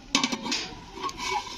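A lid lifted off a cooking pot of drumsticks, giving a few quick close metallic clinks and a light scrape, followed by faint rustling.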